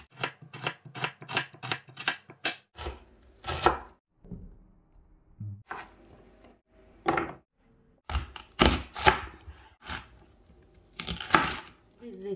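An onion chopped with a knife on a board for a tagine: a quick, even run of close, crisp knife strikes, then scattered single chops with pauses and faint background voice.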